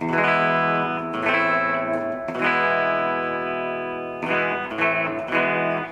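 Sustained clean-tone electric guitar chords ring out through a Fender Tone Master Twin Reverb amp, with strums every second or two and a long decaying tail between them.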